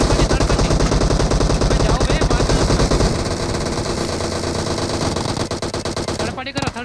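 Blind spray of automatic gunfire in a battle royale game, a fast, loud, rhythmic burst of rapid shots that keeps going, then thins out and ends with a few scattered shots.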